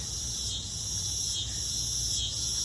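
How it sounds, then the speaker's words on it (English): A dense, steady high-pitched buzz of cicadas droning continuously in a garden in August, with a faint low rumble underneath. "you're going to hear the cicadas"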